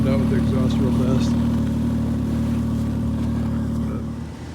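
A vehicle engine idles steadily and loudly up close, its exhaust used to thaw an iced-up chainsaw in snowy remote Alaska, with a low continuous rumble throughout that fades slightly at the end.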